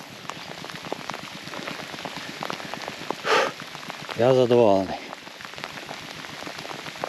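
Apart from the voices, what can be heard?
heavy rain falling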